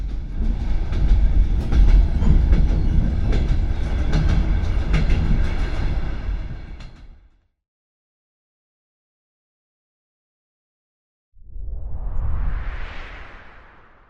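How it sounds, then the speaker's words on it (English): A weekly night train from Tajikistan to Uzbekistan rumbles steadily along the rails for several seconds, then fades to silence before another burst of rolling rail noise rises again. "We are on board train number 301"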